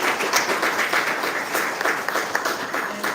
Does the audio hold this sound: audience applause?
yes